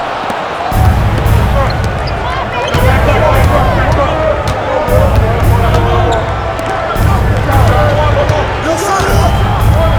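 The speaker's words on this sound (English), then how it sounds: "Oh, and the crowd goes crazy after seeing that finish" A loud arena crowd roars and cheers in the NBA 2K25 basketball video game after a dunk, a dense, steady wall of noise that swells in waves, with sharp ball bounces and thumps cutting through.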